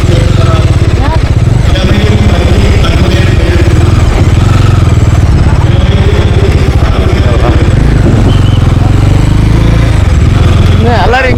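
A motorcycle rides toward a college parking area with a loud, steady engine drone and clattering throughout. People talk over the engine noise.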